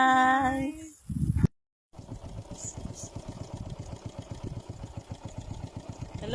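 A motorcycle idles close by with a steady pulsing putter after a brief burst of other noise and a short dropout, the engine chugging alone at moderate loudness.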